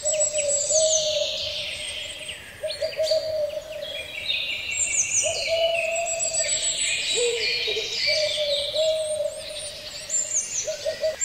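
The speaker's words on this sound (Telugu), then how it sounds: "తెలివైన ముసలి గుడ్లగూబ." An owl hoots in a dense forest, a wise old owl living in a big tree hollow, for a children's story; steady repeated hoots run throughout, layered with busy high bird chirps and tweets.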